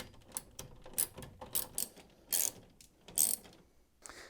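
Screws are driven in as the top is refitted onto a Hoover tumble dryer, giving quiet repeated ratcheting clicks and short metallic squeaks in an irregular rhythm close by.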